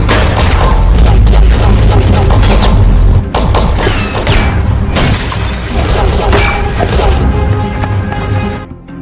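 Film gunfight with dense gunfire, booms and shattering glass, a loud, continuous barrage with crashes and impacts piling on top of each other and barely any letup.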